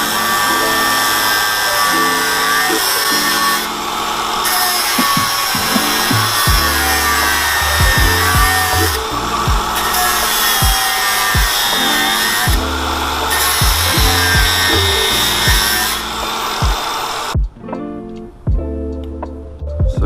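A power tool cuts into the steel steering knuckles of an AU Ford Falcon during a lock kit install, giving a steady, loud, high-pitched grinding whine that dips and swells as the cut progresses, with a brief pause near the end.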